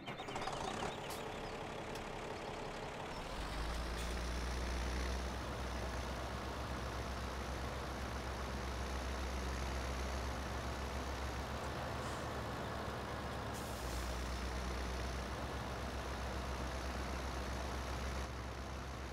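A truck engine in the Farming Simulator 17 game, rumbling low and steady as it is parked. The deep idle grows heavier after a few seconds and drones on evenly at moderate volume, with no voices.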